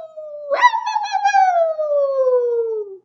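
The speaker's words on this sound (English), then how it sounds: "Wally howled." A single dog howl rises sharply, then glides slowly downward for about two and a half seconds, loud and close with no talk over it.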